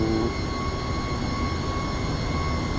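An MD-11 cargo jet taxiing at Chicago in X-Plane 12 holds a loud, steady engine whine with a constant low rumble beneath it, continuous and close.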